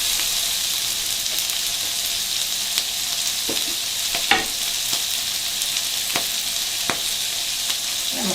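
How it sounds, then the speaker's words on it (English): Broccoli sizzling in a hot pan for fried brown rice with vegetables, a loud steady hiss of frying oil with scattered crackles and occasional stirring scrapes, close and continuous. "I'm going to throw my broccoli in there."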